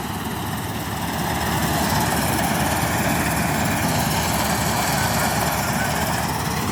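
Combine harvester engine running steadily in a paddy field during rice harvest, a loud, continuous mechanical drone with a dense rumble and clatter that stays level throughout.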